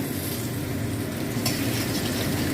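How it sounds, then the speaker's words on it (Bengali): Thin strips of papaya fry in hot oil, a dense, even sizzle that stays loud and close throughout, with a brief clatter near the middle. "আর এই তেলেতেই আমি পেঁপেটা ভেজে নেব"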